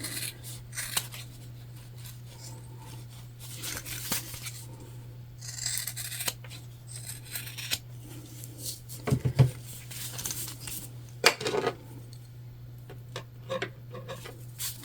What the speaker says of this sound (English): I have specific scissors for the zip